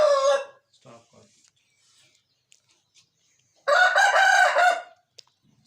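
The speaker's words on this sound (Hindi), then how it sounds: "हम दूसरा मुर्गा ले आए हैं" An Aseel rooster gives a short crow at the start, then after a few quiet seconds of faint clucks and rustles lets out a loud, strained crow lasting about a second, close to the listener.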